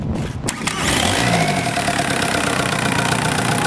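A VW 1.9 TDI ALH diesel engine on a test stand cranks briefly and catches, then settles into a steady, loud, close idle with a rough mechanical clatter for the rest of the clip.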